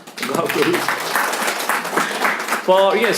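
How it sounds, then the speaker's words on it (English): Audience applause at a spiritual class discussion, a dense wash of clapping with a speaker's voice heard over it, swelling near the end. "big round of applause"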